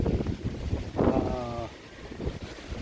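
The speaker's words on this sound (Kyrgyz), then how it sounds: "Бирок шамал болду да туугандар." Outdoor wind buffets the microphone in a low continuous rumble throughout, with a brief muffled tonal sound partway through.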